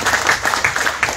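A crowd at an outdoor political campaign rally in Johor gives a brief burst of applause for the Malacca Chief Minister, loose uneven claps close by, lasting only about a second with no speech over it.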